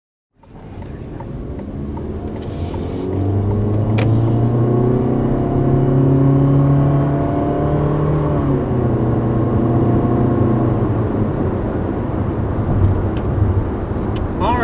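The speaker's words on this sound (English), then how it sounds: "first taking off here in the 2020 Toyota CHR" 2020 Toyota C-HR pulling away on the road, its engine and road noise rising into a loud, steady droning hum that holds throughout with a faint whir on top.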